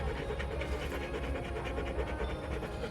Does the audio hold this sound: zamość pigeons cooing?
no